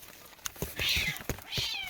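A cat meows twice, fairly close, with clattering and handling noises around it.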